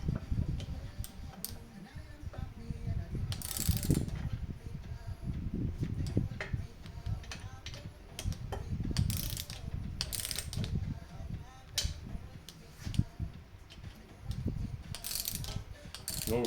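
A torque wrench ratchet tightens bolts on a Peugeot 309 GTI engine during restoration, producing repeated close clicking strokes and scattered sharp metallic ticks over a low rumbling background, with brief bursts of handling noise.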